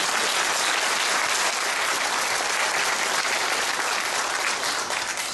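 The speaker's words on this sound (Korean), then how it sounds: "박수" Loud, dense applause from the crowd at a national rally of public university professors, a steady roar of many hands clapping that holds at full strength for over five seconds.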